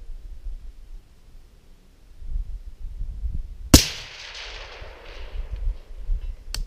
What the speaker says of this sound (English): We just finished shooting with 400 to 600 yards with the SPR.